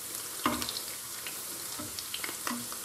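Eggs fry in olive oil in a pan with a steady quiet sizzle and crackle. A few soft clicks and scrapes of a utensil sound close by, and no one speaks.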